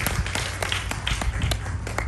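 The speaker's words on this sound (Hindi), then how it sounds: "एक बार फिर हमारे राजीव जी के लिए तालियां।" Steady applause at a Hindi poetry recital, a close, even patter of many hands clapping at once for a poet, with no talk over it.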